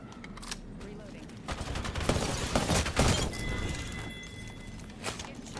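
Gunfire in a video game: scattered shots and short bursts at moderate loudness over a steady background din, with a couple of sharper cracks around the middle.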